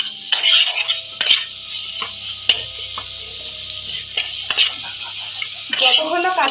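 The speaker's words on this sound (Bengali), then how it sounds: "এটা কিন্তু আমি লো ফ্লেমে ভাজতে থাকবো।" An egg mixture for steamed egg curry is stirred and fried in a pan over a low flame, with a soft steady sizzle under repeated scraping and clinking of a utensil against the pan.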